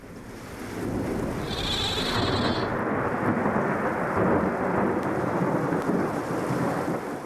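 Steady rain and a rolling thunder rumble fill a stage drama's storm effect, a loud continuous wash with a brief higher ringing tone early on, no voices.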